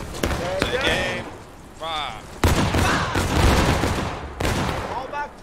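Staggered musket volleys crack out in the Civil War game War of Rights, several sharp reports ringing near and far while people shout over the gunfire.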